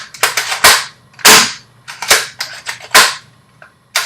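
Several sharp bursts from a Jakks Pacific Splatoon Splattershot toy blaster being fired, about five loud cracks at irregular intervals, each with a short splashy tail, close by and with no voices.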